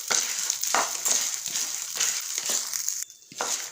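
Lentils dry-roast in a pan with rock salt, producing rhythmic scraping and rattling strokes about twice a second, close and fairly loud, with a brief pause near the end.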